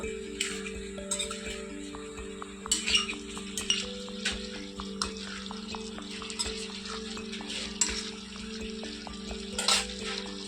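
Chicken being stirred in a pot with the lid off, utensil scraping and clinking against the metal over a low simmering sizzle, with a steady stove hum underneath and no voices.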